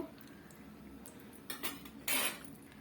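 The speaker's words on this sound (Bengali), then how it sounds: "বড়িগুলো আমার মোটামুটি ভাজা হয়ে গেছে এবার আমি এগুলোকে তুলে নেব" Fried lentil vadis are lifted out of a pan of oil with a metal spoon, giving a few scraping knocks and clinks that grow into a louder clatter near the end, close up with no talking.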